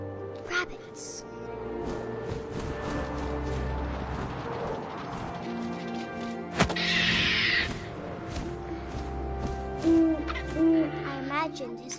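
An owl hooting in the video game What Remains of Edith Finch, set against a low wind-like ambience with scattered rustles and a brief sharp knock partway through; no talking.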